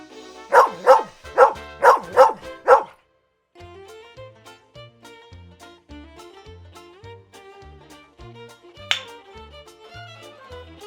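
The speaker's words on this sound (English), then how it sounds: "Dog." Cartoon dog barking in a farm-animals learning cartoon, a quick run of about six loud, evenly spaced barks, followed by soft background music alone.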